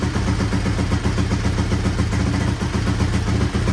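A 1983 Honda XR200R motorcycle engine idles steadily at close range after a kick start, a continuous rough putter with no voices.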